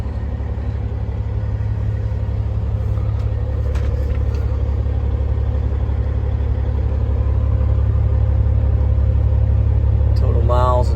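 A 2011 Peterbilt 388 flattop truck with an 18-speed transmission runs steadily with a deep, loud low rumble, and its pitch rises slightly toward the end as the revs climb.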